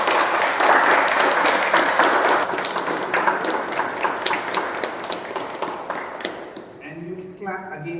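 Audience applause at a club meeting: dense, sustained clapping from a roomful of people for about six seconds, thinning out near the end as a voice begins speaking over the last claps.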